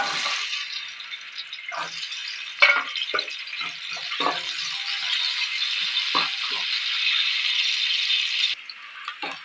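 Onion fries in oil in a pan for a dried prawn curry, making a loud, steady hiss and crackle for about eight seconds. Scattered spatula rattles and knocks cut through the sizzle before it drops off near the end.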